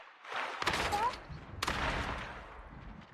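Gunfire in the Call of Duty Mobile video game, sharp bursts of rapid shots with a couple of loud cracks standing out, heard through game audio at moderate level.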